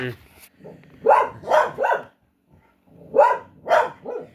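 Several dogs bark at movement outside house windows, giving two quick bursts of three loud, close barks each, separated by a short pause.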